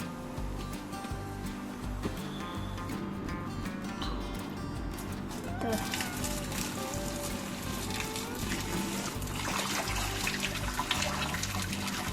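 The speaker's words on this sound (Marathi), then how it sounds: "आता हे पाणी काही काही सिंकमध्ये टाकते" Boiled water poured into a kitchen sink, a continuous splashing, gurgling stream lasting several seconds, close and steady with no talk.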